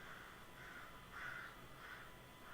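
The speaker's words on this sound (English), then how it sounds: "Okay, there's a crow." A crow caws several times in a faint, distant series of rasping calls over a low, steady background hiss.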